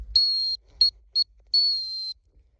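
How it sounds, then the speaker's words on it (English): A dog whistle blown four times at close range: a long shrill blast, two short pips, then another long blast. "different whistles could mean different things"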